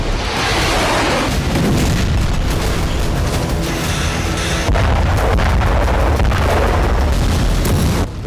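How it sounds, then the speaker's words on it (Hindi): A Ukrainian drone strike blasts a steel plant in Cherepovets, Russia, producing a loud, continuous thundering roar of explosions and booms that carries on unbroken for several seconds. "रूस के चेरेपोवित्स में यूक्रेन ने बड़ा विस्फोट किया।"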